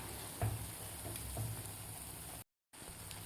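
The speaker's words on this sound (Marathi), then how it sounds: "आता व्यवस्थित आपल्याला ह्याला उलटपलट करून व्यवस्थित तळून घ्यायचे आहेत।" Wheat flour and jaggery gulgule fritters deep-frying in oil, a steady soft sizzle with a few faint clinks of a utensil turning them, briefly cut to silence near the end.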